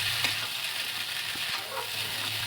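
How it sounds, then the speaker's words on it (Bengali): Chowmein stir-frying with chicken, fried egg and soy sauce, a continuous close sizzle with light scraping and stirring, no talking. "ওর মধ্যে দিয়ে দেবো চিকেন আর ডিম ভাজাটা দিয়ে, আর একটু সয়া সস দিয়ে দেবো, দিয়ে ভালোভাবে একটু ভেজে নেবো"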